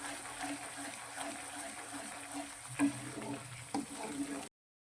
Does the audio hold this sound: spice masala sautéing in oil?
yes